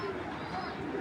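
Giribaj pigeons of the Chita Military line give a brief low cooing, soft and close, over a steady background hum.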